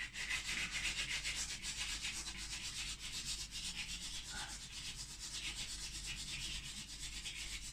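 A brush works short, quick strokes across a seascape painting, making a faint, steady scratchy rubbing that repeats in close rhythm with no voices.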